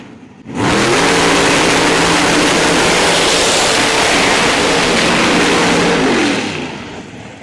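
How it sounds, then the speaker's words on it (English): Pro Stock drag race cars at a PDRA Doorslammer Derby in Bowling Green, Kentucky roar through burnouts, a loud sustained blast of high-revving engines with shifting pitch that holds steady for several seconds before cutting off. "Let's do some burnouts. Crank it up."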